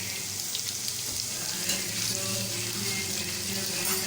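Meat for Balochi tikka karahi frying in a karahi over high flame, a continuous even hiss and crackle of sizzling oil close up, with no talking.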